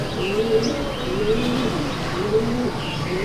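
Pigeons coo repeatedly in a Kolkata loft housing green Kalasabuj pigeons, low rolling calls rising and falling at a steady pace with fainter chirps above, no voices.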